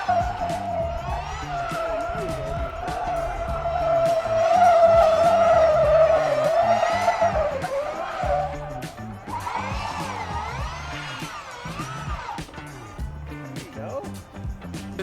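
A 300 horsepower Sierra race car weighing under 1,500 pounds drifts with loud, sustained tire squeal that wavers in pitch, over its revving engine, with a voice talking over it.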